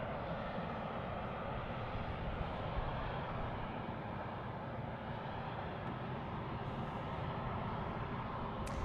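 Steady broadband jet roar of a T-45 Goshawk at Tucson International Airport, continuous and fairly distant, holding an even level throughout with no voices.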